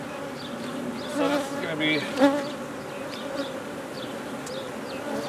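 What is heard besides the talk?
honey bees buzzing on brood frames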